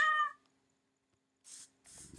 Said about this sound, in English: Well, that's all three of the types of cats.